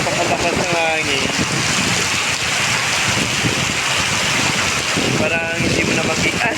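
Very strong storm wind roars and buffets hard and close, a dense constant rush with rain and water noise throughout, with brief voice-like tones breaking through.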